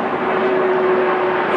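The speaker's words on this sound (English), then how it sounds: "You'll have to excuse the plane flying past at the moment." A Virgin Atlantic airliner passes overhead, a steady droning engine rumble with a faint sustained tone, fairly loud and even throughout the short moment, with no talking over it.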